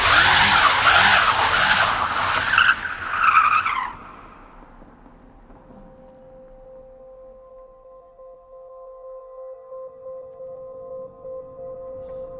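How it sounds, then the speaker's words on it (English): Tyres of a modified Datsun 240Z skid loudly for nearly four seconds with a harsh screech, then the car settles into a low steady engine hum. "So that's proved that it'll skid if you wanted to."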